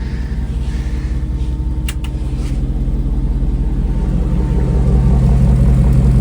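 A loud, deep Ford Coyote V8 engine in a 1976 Ford Bronco rumbles with throaty exhaust, its roar building gradually as the throttle opens.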